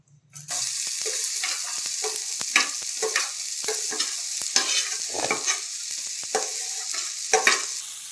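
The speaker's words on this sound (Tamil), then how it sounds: "அதுக்கப்புறம் இன்னும் கொஞ்சம் பட்டர் போட்டு மிச்ச ஆனியனில் ஃப்ரை பண்ணிக்கலாம்." Onion fries in butter in a pan: after a brief near-silent start, a steady close sizzle rises, broken by repeated spatula scrapes and stirring knocks.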